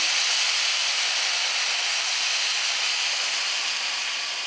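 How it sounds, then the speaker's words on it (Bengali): Water splashed into a hot pan of frying vegetables and cumin, drumstick flowers among them, gives a steady, loud, broadband sizzling hiss that holds evenly throughout with no talking. "এবার আমি অল্প করে একটু জল দিয়ে দিচ্ছি"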